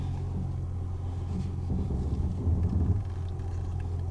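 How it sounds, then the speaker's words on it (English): A 1999 Lexus car rolls slowly on a test drive after a brake light fix, a low steady engine rumble heard from inside the cabin, rising slightly midway, with no talk. "Now let's take it for a test drive, make sure that everything's fine."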